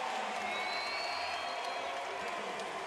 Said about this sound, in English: The crowd on their feet here in Los Angeles as the game gets tied.